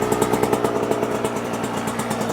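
Motorcycle engine idling steadily with a rapid, even mid-pitched throb and a light mechanical clatter, close and constant, no talking.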